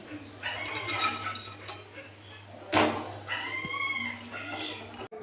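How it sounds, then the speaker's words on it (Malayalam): Fried flower fritters are scooped from a pan into a bowl, with a spoon scraping and clinking against metal in irregular bursts while people talk nearby. "നമ്മളിവിടെ ഇത് കോരി ഒരു പാത്രത്തിലേക്ക് മാറ്റുവാണേ"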